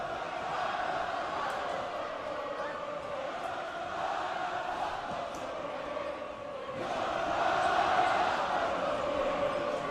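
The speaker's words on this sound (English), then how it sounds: "Raiders crowd getting excited. Legend crowd responds" A packed gym crowd at a boys high school basketball game, Regis Jesuit vs. Legend, roars and cheers in a steady, loud wash of voices that swells louder toward the end.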